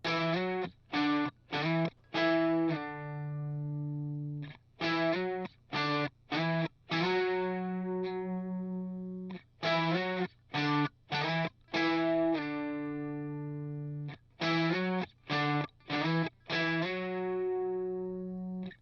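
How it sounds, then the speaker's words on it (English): Distorted electric guitar chords strummed in short rhythmic bursts for a hyperpop beat, repeating in a steady looping pattern with brief gaps between groups. "These are the chords for the guitar loop."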